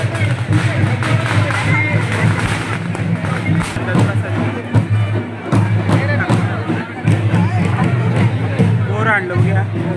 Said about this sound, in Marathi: गर्दी बघा किती ते.